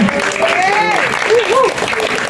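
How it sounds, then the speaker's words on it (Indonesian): Applause from attendees at a press conference for a horror film from Leo Pictures, a continuous spread of clapping with voices speaking and calling out over it. "kami boleh minta tepuk tangannya semuanya"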